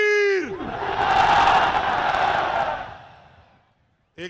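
Crowd at a political jalsa in Karachi shouting a slogan in unison: a voice calls out the line over a loudspeaker, then a massed roar swells and holds before fading, and another voice cuts in at the end.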